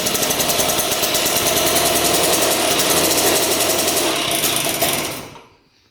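A rare 1960s Ducati scooter engine, started for the first time after 30 years, runs with a loud, rapid buzzing putter that holds steady before dying away and falling silent.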